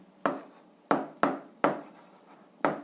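Chalk taps and scratches on a board while a physics formula is written, with five sharp strokes spaced unevenly over a few seconds, each fading quickly.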